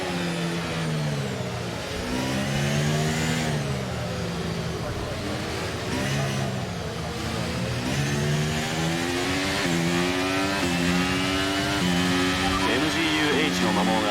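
Formula 1 cars racing through the old town streets of the Azerbaijan Grand Prix in the video game F1 23, a pack of about ten, engines revving and shifting in rising, sawtooth pitch sweeps, continuous and loud under a speaking voice.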